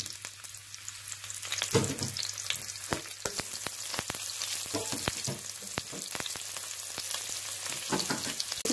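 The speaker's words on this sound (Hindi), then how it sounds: "जब ऑयल हो जाएगा हमारा गरम, फिर हम इसमें ऐड करेंगे अपनी कटी हुई प्याज" Chopped onions sizzle in about a third of a cup of hot oil in a pan for a restaurant-style mixed vegetable dish. A constant crackling hiss is broken by sharp, scattered clicks and pops as the onions are stirred.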